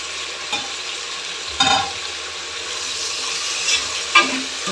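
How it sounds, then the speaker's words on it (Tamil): Onion, chopped tomato and curry leaves sauté in a pan for veg pulao, with a steady close sizzle and a few louder scrapes and stirring knocks, no talking. "இப்போ நம்ம இது கூட நம்ம கட் பண்ணி வச்சுருந்த தக்காளி, அப்புறம் கறிவேப்பிலை, இது எல்லாத்தையும் சேர்த்து நம்ம வந்து வதக்கிக்கலாம்"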